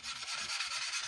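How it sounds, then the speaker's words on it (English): Polishing the core side of a plastic part from a Trumpeter 1/32 Corsair model kit to remove deep scratches and grooves, heard as a steady, close, continuous rubbing hiss with light low thumps. "all we're doing with the core side is just polishing out all the deep scratches and grooves"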